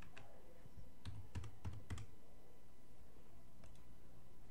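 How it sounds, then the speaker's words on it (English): A password is typed on a computer keyboard in a short cluster of quick, close key clicks, followed by quiet and one more faint keystroke. "I didn't type in my password."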